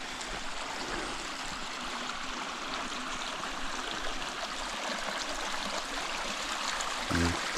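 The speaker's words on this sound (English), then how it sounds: "Waterstroompie wat wegvloei na die see." A small stream trickles toward the sea in a Cape nature reserve, a soft, steady babbling flow heard faintly at close range, with a brief low knock near the end and no talking.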